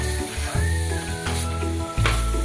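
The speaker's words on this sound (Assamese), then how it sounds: "লৰাই দিছোঁ অকণমান মই এই ভাজিখিনি" Radish mula bhaji being stirred in a frying pan, a steady close sizzle with soft scraping of the spatula, brief pauses and a louder burst near the end.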